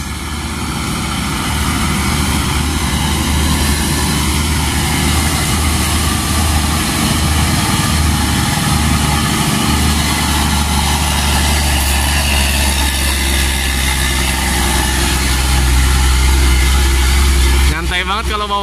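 A Hino 500 truck laboring up a steep hill in Bogor gives a loud, continuous low engine drone throughout, with people talking over it.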